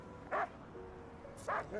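Dogs in Love and Deepspace give two short barks about a second apart, moderately loud over a steady windy background hum.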